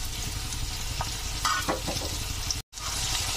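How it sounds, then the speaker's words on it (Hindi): Cumin seeds, green chilli and spring onion frying in hot oil for aloo, matar and gobhi poha, a dense close sizzle with scraping stirring strokes and a brief gap near the end. "इसमें 1 चम्मच जीरा डालेंगे, और ये मेरा हरी मिर्च और हरा प्याज। अब हम इसको भूनेंगे अच्छी तरीके से।"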